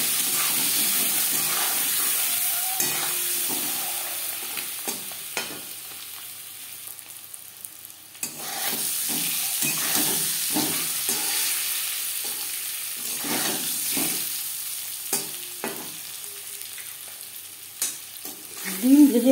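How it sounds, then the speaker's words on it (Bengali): Eggs seasoned with salt and turmeric frying in a pan for restaurant-style egg curry: a loud, steady sizzle with frequent spatula scrapes and stirs, a brief dip midway, and a few clinks near the end. "ডিম ভেজে নেওয়া হয়ে গেছে।"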